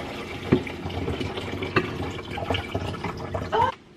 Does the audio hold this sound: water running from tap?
yes